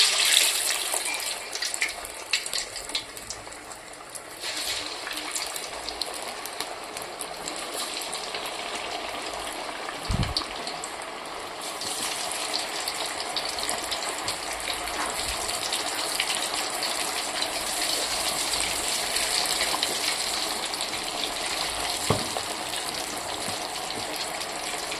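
Fish kebab pieces frying in hot oil, giving a continuous hissing, bubbling sizzle that holds steady throughout with a couple of faint clinks and no talk.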